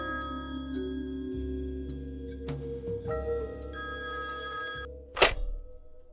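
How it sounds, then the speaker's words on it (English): An old telephone bell rings in several bursts, bright metallic trills over a low hum and background music in a 1930s noir detective drama, ending with a short sharp clunk. "the phone rang, a jarring sound in the silence"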